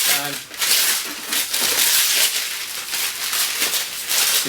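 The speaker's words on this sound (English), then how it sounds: "Take the paper off here, see how it looks inside." Paper peeled away from an oily acoustic guitar side freshly bent against a mold, a close, continuous crinkling and tearing rustle that carries steadily throughout.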